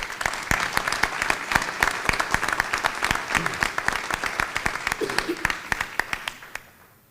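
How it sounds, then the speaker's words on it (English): An audience at a school board meeting applauds athletes, a crowd of sharp, distinct claps in a quick, uneven patter that carries on steadily, then thins out and fades at the end. "So let's give them all a round of applause real fast"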